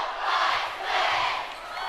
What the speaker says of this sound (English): Now the Dons crowd is making some noise here.